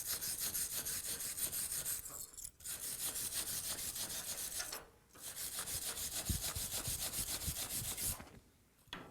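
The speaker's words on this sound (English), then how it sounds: "So I'll hit this with the wire brush here." A wire brush scrubs an aluminum MIG weld bead in a steady, close, rasping back-and-forth rhythm that is broken by two short pauses.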